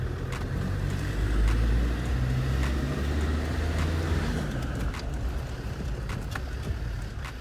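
Cabin rumble of a Land Rover Defender with coil springs under way during a brake test: steady low engine and road drone, fairly loud and continuous, with faint knocks over it.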